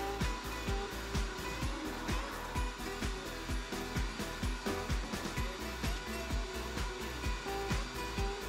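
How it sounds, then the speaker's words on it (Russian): A construction vacuum cleaner runs steadily with a loud whining roar, pulsing in a regular rapid rhythm throughout. "Пылесос работает."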